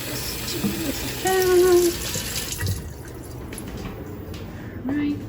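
Tap water from a well runs into canning jars and a pot, splashing and gurgling close by, with a shift in tone midway and a short clink near the end, and a voice speaking briefly.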